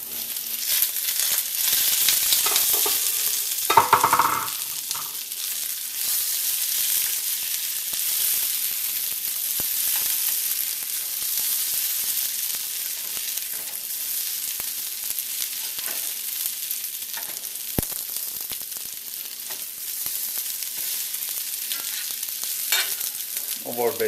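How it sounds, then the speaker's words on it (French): Onions and potatoes roast in a pan, giving a long, even sizzle close to the microphone, with a brief stirring scrape near the start and soft clicks scattered throughout. "Les oignons commencent à être bien rôtis."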